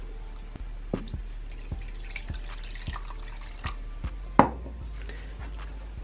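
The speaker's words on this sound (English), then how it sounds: "I'm gonna put his head right over the water bowl. And now let's drop some water." Single water drops fall into a reptile's water bowl one after another in an uneven, sparse rhythm, each a small close plink, with one louder splash near the end and no speech.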